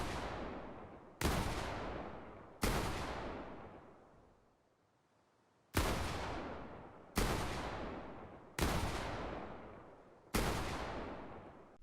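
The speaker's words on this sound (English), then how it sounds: "it is virtually impossible to tell if someone is firing a weapon above you or below you" Gunfire in a video game: seven sharp, loud single shots spaced a second or two apart, each followed by a long decaying echo, with a longer quiet gap after the third shot.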